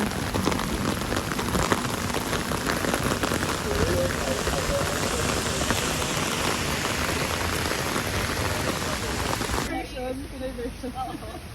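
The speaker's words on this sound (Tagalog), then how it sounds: "lakas ng ulan" Heavy rain pounds steadily on a surface in Taiwan, a dense continuous roar close by that cuts off sharply near the end, leaving a quieter background.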